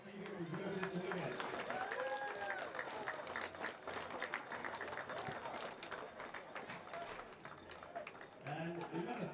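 Crowd applause and cheering at a rugby league championship at an outdoor reserve, a steady broadband clapping wash that lasts throughout, with a voice talking over it at the start and again at the end.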